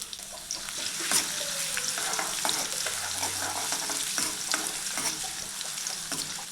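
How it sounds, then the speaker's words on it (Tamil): Steady, crackling sizzle of garlic frying in hot oil, close up, with scraping stirring sounds throughout and no talking. "இந்த பொன்னிறமாக ஆகிற வரைக்கும் இந்த பூண்டை வந்து வறுக்கணுங்க"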